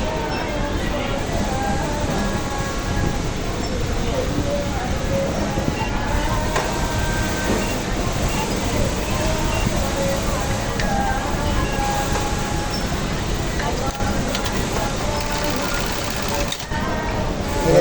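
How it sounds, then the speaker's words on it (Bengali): A Juki LK-1900 industrial button-sewing machine with a knife fault runs and trims its thread. It gives off a loud, continuous mechanical whir and rattle throughout, with a voice talking over it. "বডিতে বাটনে সুতা কাটে কি না এটা এখন দেখবো প্র্যাকটিক্যালে দেখবো"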